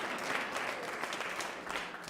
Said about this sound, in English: I'll take the applause. I'll take it.